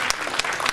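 A church congregation clapping at a new parish of the Redeemed Christian Church of God, a short burst of close, loud applause with distinct individual claps.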